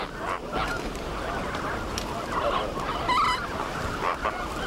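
Flamingos being rounded up into a pen in the Ebro river delta give a constant honking, goose-like clamor, a dense flock chorus of overlapping calls, with one louder nearby call standing out.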